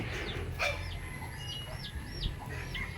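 A chicken clucks several times in short rising calls over a steady low background hum, fairly close and moderately loud.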